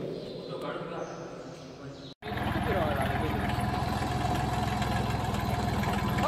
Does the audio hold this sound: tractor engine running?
yes